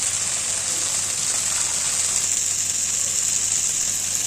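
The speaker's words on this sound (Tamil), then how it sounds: "6 டம்ளர் நம்ம தேங்காய் பால் ஊற்றிக்கலாம்." Coconut milk poured into a cooking pot for coconut milk rice, a steady liquid gush and splash running without a break, loud and close, with no voices.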